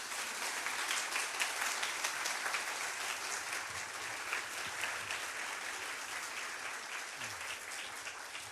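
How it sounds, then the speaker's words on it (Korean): Sustained applause from a church congregation welcoming a missionary to the front, a dense, steady clapping crowd lasting throughout. "우리 선교사님 나오실 때 큰 박수로 환영하겠습니다."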